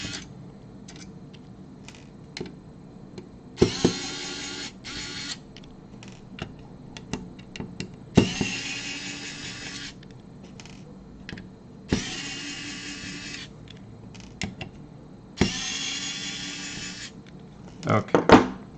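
Five screws being undone from the bottom of an NES/SNES Classic console with a small powered screwdriver: several bursts of steady motor buzz, each a couple of seconds long, separated by quiet clicks and handling, close up with occasional speech.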